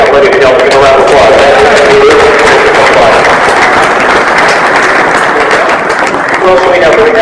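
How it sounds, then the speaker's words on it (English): A protest rally crowd claps loudly and continuously, dense applause with voices shouting and talking over it throughout. "Dr. Bud Feldkamp, ladies and gentlemen, give a round of applause."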